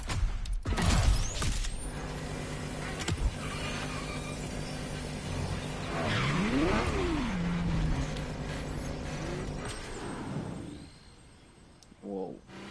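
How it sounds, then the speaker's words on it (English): A Ferrari GTO driving in the racing game The Crew Motorfest, its engine a mid-loud drone that rises and falls in pitch with a clear rev swell midway, ending with a brief clattering burst. "The car you're about to drive in this opening event is none other than the first Ferrari in the supercar bloodline, the Ferrari GTO."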